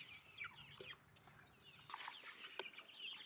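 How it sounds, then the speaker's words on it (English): Broiler chickens in an outdoor roller pen on a cold sunny morning give soft, scattered clucks and chirps, with brief rustling or wing movement, fairly near and at moderate volume. "Ooh, a happy chicken."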